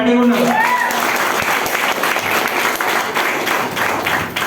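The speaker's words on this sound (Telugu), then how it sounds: "ఎంతమంది చప్పట్లు కొట్టడానికి రెడీగా ఉన్నారు?" A seminar audience at a business plan presentation breaks into dense, loud applause that fills the room steadily from start to finish, with a brief voice at the very beginning.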